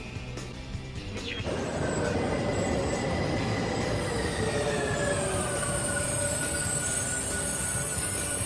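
A driverless Korean train rolls along, the loud continuous rumble of its wheels on rails swelling early on, with squealing wheel tones drawn out above the roar.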